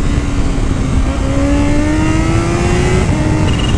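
A Kawasaki H2 motorcycle accelerates hard, its engine a loud, dense roar with a rising whine climbing steadily in pitch, heard close up over strong wind noise.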